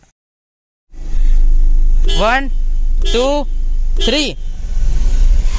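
A Ford EcoSport sits ready for a drag race against a Baleno, its engine rumbling loudly and steadily from close inside the cabin while a voice counts down over it.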